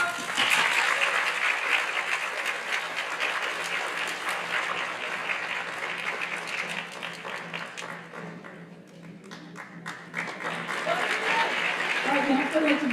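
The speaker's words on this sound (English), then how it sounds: "So, clap up." Clapping from an audience at a school awards night, a sustained dense applause with some laughter that dips briefly in the middle, then swells again.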